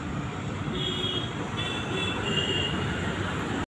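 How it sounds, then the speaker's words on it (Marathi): A metro train runs with a steady rolling rumble and faint high wheel squeal, continuous and fairly close, before cutting off abruptly. "it's time to exit from the metro"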